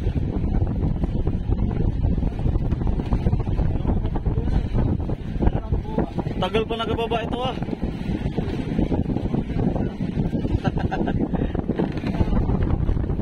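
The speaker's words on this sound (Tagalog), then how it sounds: "malakas na yung hangin dito ngayon." Strong, roaring typhoon wind buffets the microphone continuously, a dense low rumble, while a person speaks briefly over it.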